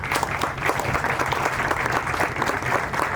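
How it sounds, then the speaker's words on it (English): Sustained applause from a large audience at a school speech and prize-giving day, greeting the head boy: dense, steady clapping throughout, loud and close, with no speech over it. "Shall we welcome him with a round of applause?"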